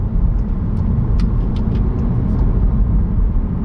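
Volkswagen Golf R engine idling in sport mode with the DSG lever pulled down, giving a steady, loud low throb that holds without a break, with no talking over it.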